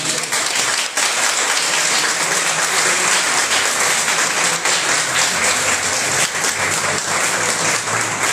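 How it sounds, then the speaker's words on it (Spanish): A lecture audience in Pátzcuaro, gathered for a talk on the history of hot chocolate, gives the speaker a loud, sustained round of applause, thick continuous clapping close up with no speech over it. "le podemos pagar de manera muy generosa, además de con un chocolate, con un aplauso"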